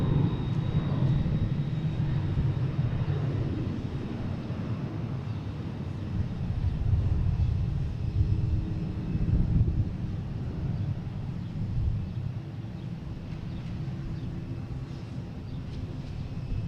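Delta Embraer E175 jet taking off from Boston Logan toward Reagan, a continuous rumbling engine roar with a low hum and wind buffeting, steady and moderately loud throughout, no talking.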